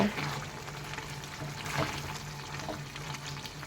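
Spinach curry with gravy simmering in a pan while being stirred, a soft steady bubbling and liquid sizzle with faint scraping, low and continuous.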